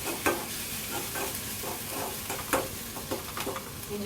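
Onion, green chilli, ginger and garlic sauté in a pan with a steady close sizzle, broken by several soft scraping stirs of a spatula, and no voices.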